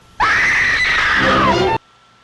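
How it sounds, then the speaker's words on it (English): A long, loud, sustained female scream from the lead character Christine in the film The Amazing Mr. X, rising sharply, holding for about a second and a half, then cutting off abruptly. "we have this big scream in this movie from our main character, Christine"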